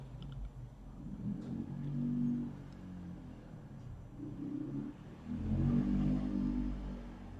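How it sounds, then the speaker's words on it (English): Bangkok street traffic heard from a house on a quiet lane: faint, low engine rumbles swelling and fading as vehicles pass in the distance, with no talk. "there really is a lot of traffic noise today."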